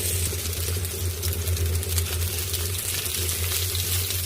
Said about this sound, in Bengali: পেঁয়াজ মরিচ ভেজে দিচ্ছি।